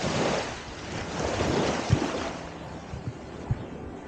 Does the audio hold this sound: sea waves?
yes